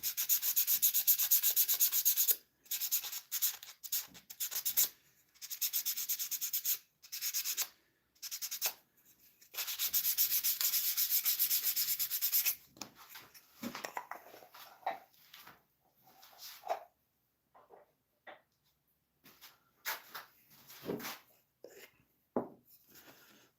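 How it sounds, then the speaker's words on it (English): Light hand sanding of wood between coats of tung oil, with long, steady rasping strokes for the first dozen seconds, then shorter, broken scrubbing passes separated by pauses. "This is just a light sanding between coats, guys."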